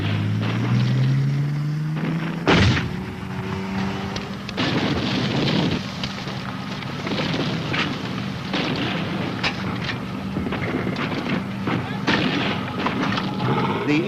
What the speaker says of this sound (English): The tanks give covering fire.